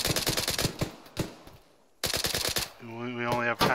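Video game gunfire comes in two quick bursts of rapid automatic shots, close and loud, with a synthetic tone rising near the end.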